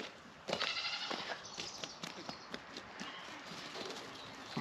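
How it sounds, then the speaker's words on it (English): Sheep on a farm heard up close, several short bleats and scattered hoof and movement sounds in a quiet rural setting, no talking. "That right there is a sheep."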